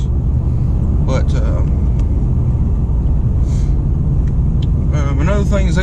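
Toyo RT tires droning inside a moving Chevrolet truck, a loud, steady low roar of road noise that fills the cab, with a few faint brief sounds on top.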